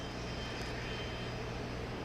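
A Learjet 75 business jet at Los Angeles International Airport gives a faint, steady engine roar heard from a distance, unbroken for about two seconds with no talking.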